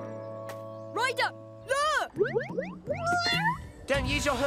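Cartoon kittens meow in a children's animated rescue scene, with several short rising and falling mews in quick succession against music and character voices.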